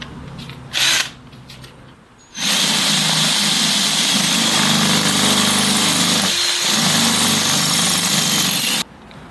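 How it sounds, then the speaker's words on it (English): A power drill whines loudly and steadily for about six seconds during trellis installation on a garden workshop, after a brief short burst, cutting off abruptly near the end. "And this is why we need 2 drills."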